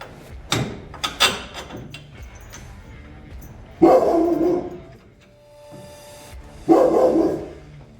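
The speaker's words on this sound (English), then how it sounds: "dog saw a rabbit or a leaf or a bird or whatever it is that they see and freak out about" A dog barks in loud bursts close by, with a few sharp yips early on and two longer barking outbursts later, heard in a garage setting during Triumph Spitfire 1500 front-end work.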